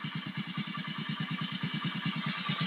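A 380 tractor with a double-tyre trolley idles close by, its engine thumping in a quick, even, regular chug that stays steady throughout.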